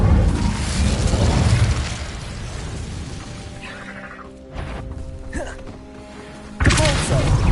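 In the Hogwarts Legacy video game, an Incendio fire spell erupts in a loud, roaring burst. The blast then dies down to a rumbling crackle, sustained tones play, and a second heavy burst hits near the end.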